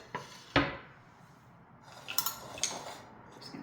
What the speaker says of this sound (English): Give these veggies a stir so they're all mixed together a little bit better